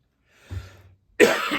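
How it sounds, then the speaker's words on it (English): Two bursts of coughing, a softer muffled one followed by a louder, harsher cough close to the microphone, with no talking. "Oh boy, don't start coughing."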